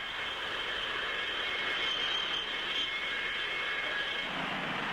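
An English Electric Canberra B-8 jet aircraft roars steadily overhead, a sustained, fairly loud whine and rush at mid distance, with no talking.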